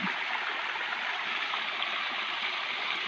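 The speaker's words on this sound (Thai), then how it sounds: "อันนี้น้ำตก" Steady rushing water of a waterfall pours without pause, a broad constant hiss of falling water heard fairly close with no voices.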